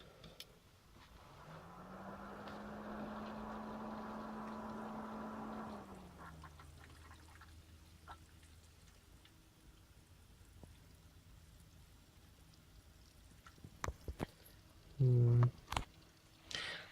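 A liquid cooling loop pump with a side radiator switches on, giving a steady hum with a rising whine for about five seconds. It then fades into quiet trickling and drips, and a brief louder clatter comes near the end.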